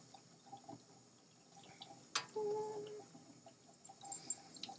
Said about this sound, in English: just kind of run it under the water and rinse on the face side